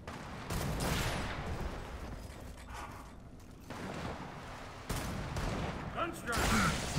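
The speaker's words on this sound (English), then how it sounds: "People from all angles shooting me right now." Gunfire in Gears of War 4 multiplayer, bursts of shots and mechanical clatter coming from several directions, mixed under excited talk.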